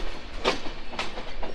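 The intercity Kapotaksha Express pulls out of Rajshahi railway station, its wheels giving a close, steady clickety-clack of rhythmic rail joints over a constant rolling rumble.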